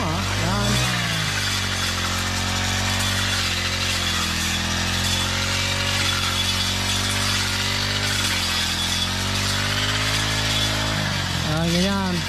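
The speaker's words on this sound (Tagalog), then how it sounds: "Sarap lang din mag-grass cutter eh." A gas-powered grass cutter runs steadily and loudly throughout, its engine drone holding a constant pitch with a brief rev near the end, while people talk over it in Filipino.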